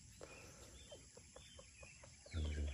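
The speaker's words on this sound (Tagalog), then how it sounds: "Maraming tumikilaok dito banda, bali 3 labuyo" Wild junglefowl (labuyo) roosters crow faintly and far off in the forest, with short scattered calls among other quiet bird sounds and a louder burst at the end.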